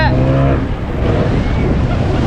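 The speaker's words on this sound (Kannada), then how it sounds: "ಬೋಟ್ ಸ್ಟಾರ್ಟ್ ಆಗ್ತಾ ಇದೆ" A motorboat engine starts for a banana ride on the sea off Goa, a loud low rumble with rising harmonic whine at first, then settling into a steady drone over washing water.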